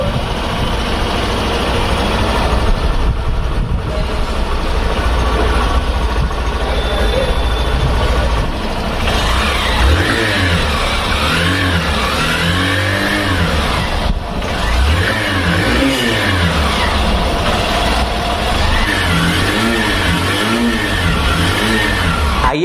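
A small 125 cc motorcycle engine idles steadily, then revs up and down in repeated swells, close by and loud, with its exhaust note rising and falling.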